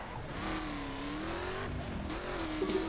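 A rally car in the racing video game The Crew drives over mountain terrain, its engine droning and rising and falling in pitch at steady moderate volume, without talk.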